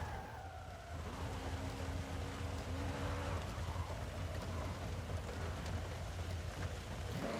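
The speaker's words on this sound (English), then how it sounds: "And it's raining again." Steady broadband hiss of rain falling during a Forza Horizon drag car race, blended with a low engine drone and a faint tonal whine, continuous throughout with no talk.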